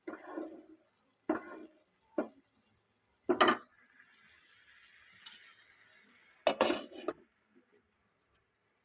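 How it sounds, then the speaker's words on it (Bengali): Banana flower curry (mochar ghonto) is stirred with a little ghee in a pot, giving short scraping, clattering bursts at uneven intervals, fairly close and separated by near silence. "সামান্য ঘি দিয়ে নাড়াচাড়া করে ঢেকে রাখবো।"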